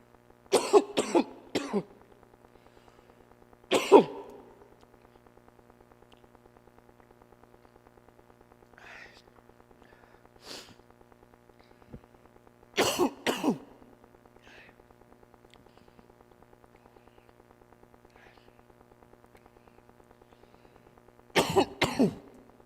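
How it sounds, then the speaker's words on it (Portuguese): Several short, sharp coughs come in scattered bursts, some in quick pairs, separated by long stretches of near silence. "A tosse."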